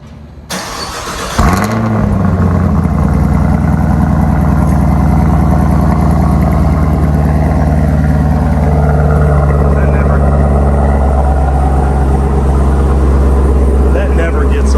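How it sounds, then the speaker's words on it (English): A 2020 Chevrolet Camaro ZL1 1LE in satin steel metallic paint cranks from cold and fires with a sharp roar. It then settles into a loud, deep, steady idle that rumbles on close by. "I guess while we're sitting here, I can do a cold start."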